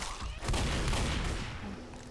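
Heavy gunfire in Left 4 Dead aimed at the Witch, a loud close burst of repeated shots blending into a continuous roar, with faint voices underneath.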